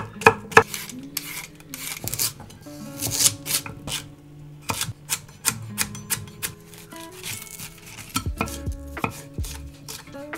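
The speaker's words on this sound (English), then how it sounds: "I suggest we just jump straight into a chopping montage." A knife chops vegetables for a vegetable lasagne in quick, irregular bursts of crisp taps on a board, close by and fairly quiet, with tonal background sound running underneath.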